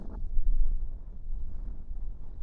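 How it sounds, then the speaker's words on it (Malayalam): Light wind over a lake at Chittar Dam, Tamil Nadu, buffets the microphone in low, uneven gusts, a soft rumbling rush outdoors with no other clear sounds. "അത്യാവശ്യം ഒരു ചെറിയ കാറ്റും ഉണ്ട്"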